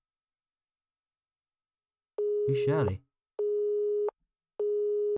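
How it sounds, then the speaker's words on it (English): Strange tones on a phone in the horror video game The Crooked Man: a flat, steady beep repeats three times in even bursts with silent gaps, and a voice speaks over the first tone. "it's the return of the strange phone noises"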